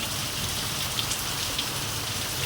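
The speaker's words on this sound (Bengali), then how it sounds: "বিদ্যুৎ চমকাচ্ছে বিশাল বৃষ্টি নেমেছে" Heavy rain falls at night in a village, with lightning flashing, making a dense, steady hiss of downpour on surfaces that holds at an even loudness throughout, with no voices.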